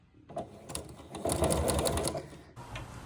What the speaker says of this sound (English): I can lift my presser foot and pivot my tie. And then just sew down that short end.